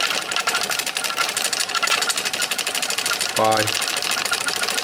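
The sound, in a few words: spinning magnetic top driven by three-phase AC power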